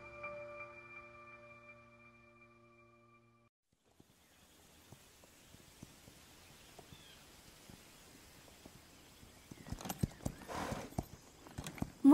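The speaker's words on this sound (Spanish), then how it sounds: "Mi caballo responde mejor y está tranquilo" Horse hooves clip-clop at a steady walk in Zelda Breath of the Wild, growing louder toward the end with a neigh, after a soft held musical chord fades out.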